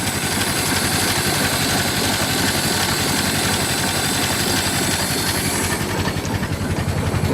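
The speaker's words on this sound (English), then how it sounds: "a well-tuned Model T engine is it should still be able to run with the spark fully retarded and on idle" A Ford Model T engine idles with the spark fully retarded, running steadily with no coughing or spluttering, a close, loud, even mechanical chug with rhythmic clatter throughout.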